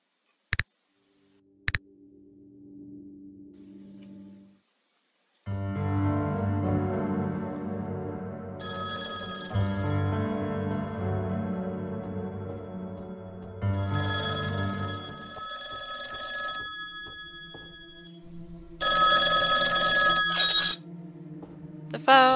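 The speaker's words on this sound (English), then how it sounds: "The phone is ringing." A telephone in the horror video game Lightless the 21st Sacrifice rings in repeated electronic bursts. Between them come a couple of sharp clicks and a low hum, and a final louder, brighter ring sounds near the end.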